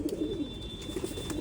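Old line pigeons held for sale in Bangalore give low, burbling coos in short repeated phrases, close and continuous over a brief stretch with no talking.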